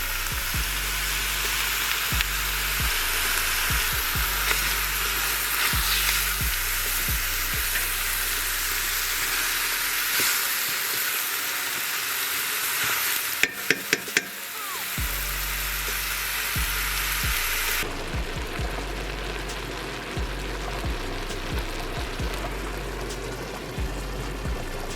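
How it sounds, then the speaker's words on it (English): Ground Italian sausage fries in a pot with a steady, loud sizzle and is stirred now and then, with a few metallic scrapes and clinks of the utensil partway through. "we're gonna cook off this ground sausage. We're gonna cook it all the way through."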